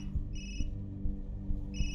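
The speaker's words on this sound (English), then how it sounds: "There's a phone." A telephone ringing in a video game, two bright electronic ring bursts separated by a pause, heard over a low rumbling background.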